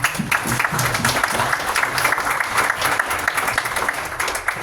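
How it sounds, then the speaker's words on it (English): Audience applause at a tech meetup showcase for Amazon Bedrock, a dense, steady wash of many hands clapping throughout, fairly loud and close, with no clear speech on top. "Let's give a round of applause for Amir."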